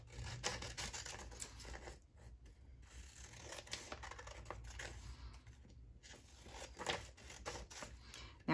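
Craft material for a permanent Christmas window decoration is cut with faint, intermittent snips and rustles, quiet and close, with no one talking.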